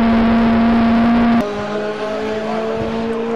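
Saloon race cars battling at Thruxton circuit, with one loud engine howling close by before its pitch drops suddenly as it passes, then quieter engines carrying on behind.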